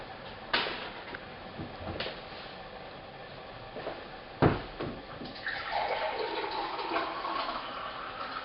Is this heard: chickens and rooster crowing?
no